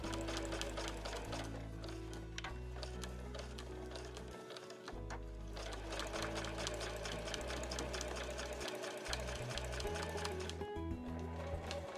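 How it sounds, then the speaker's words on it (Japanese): A sewing machine stitches across both ends of a piece of quilted nubi fabric for a large tote bag, its steady rapid needle chatter running continuously and close, with a few brief pauses, and no voices. "そしたら両端を1センチ縫います。"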